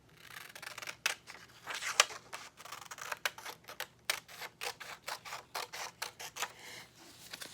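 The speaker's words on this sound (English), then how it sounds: "A scissors will work just fine." Scissors snipping through printed paper Easter candy wrappers, a steady run of short, crisp cuts in quick succession, close up and fairly quiet with no talking.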